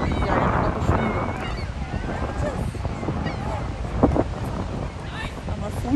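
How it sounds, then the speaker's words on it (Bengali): Strong cold wind blows by the water, buffeting the microphone with loud, gusty rumbles, while a person speaks over it at times. "আমার ফোনটা পর্যন্ত নড়তেছে, এত বাতাস।"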